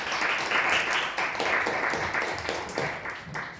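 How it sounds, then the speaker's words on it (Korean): An audience at a media-management society concert gives a lecture speaker a warm welcome, with steady, dense applause filling the hall from start to finish and no voices above it. "여러분들 열렬한 박수로 환영해 주시기 바랍니다"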